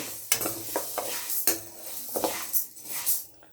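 Urad dal roasting in a pan over a low flame, a soft dry rustle with repeated scrapes and taps of a spoon stirring against the pan, close and fairly quiet, no talk.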